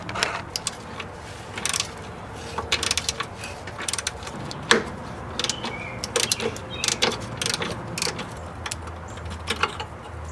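Metal clicks and ratcheting from a wrench removing 12 mm motor mount bolts on a Mitsubishi Lancer, close up, in irregular bursts of sharp ticks against a low steady background.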